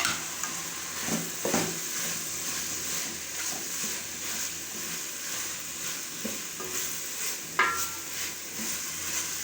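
Chopped white parts of green onion sizzling steadily in a pan for a Chinese pulao, with occasional stirring scrapes and clinks of a spoon against the pan.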